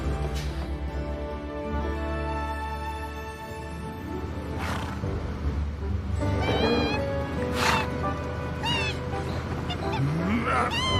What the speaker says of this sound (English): What is it with these damn birds?